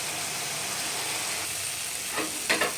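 Spice masala sautés with ginger garlic paste in a pan, a continuous soft sizzle with a few stirring scrapes near the end, no voices.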